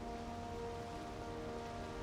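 Steady rain pours during a storm at sea in a video game, a faint, even hiss with a low rumble beneath and no talk.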